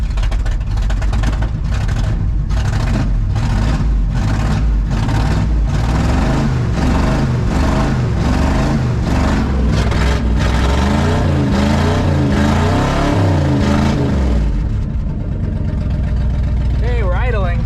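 A 1979 Ford F150 engine, running rough and overfueling after a tune-up, chugs in a loud, steady rhythmic idle close by, then cuts out near the end.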